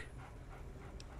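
A dog in the Fallout 3 video game whimpers and pants softly, a faint, brief sound set low among quiet game ambience, with no one speaking.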